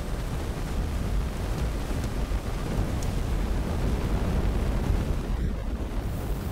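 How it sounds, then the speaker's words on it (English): A giant fiery tornado in the video game STALKER 2 roars as a steady, loud, broad rushing wall of noise that is dense and constant throughout, with no speech. "It's a big fiery tornado, exactly what it sounds like."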